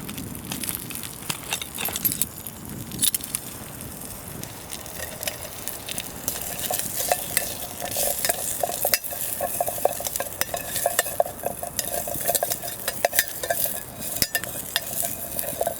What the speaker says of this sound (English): That chorizo is frying up really nicely now